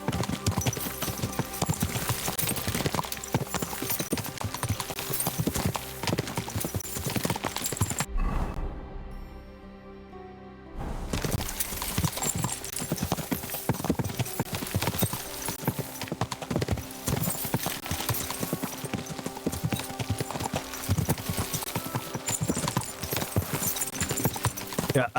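Horse hooves clip-clop steadily at a walking pace while riding along a quiet road in Kingdom Come: Deliverance II, with game music and character dialogue over them and a brief lull midway.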